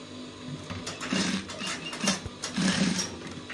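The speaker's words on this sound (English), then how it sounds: "Okay, so you top stitch again." A sewing machine topstitching a shirt placket runs in short uneven bursts of whirring needle clatter, fairly quiet and close, with no speech.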